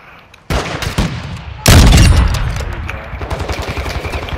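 Loud first-person shooter gunfire: a sharp shot opens, then a heavy blast gives way to a rapid, continuing volley of shots at close range.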